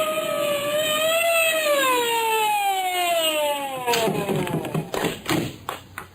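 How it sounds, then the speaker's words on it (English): A police siren wails, sweeping up and down loudly for several seconds, then breaks into choppy bursts and clatter as it fades. "I heard the police siren and slowed down."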